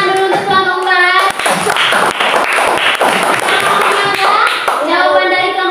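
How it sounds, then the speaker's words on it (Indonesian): Classroom applause as students clap for a group of classmates, a dense burst of hand claps lasting several seconds, with a teacher's voice speaking briefly before and after. "tepuk tangan dulu untuk kelompok 4"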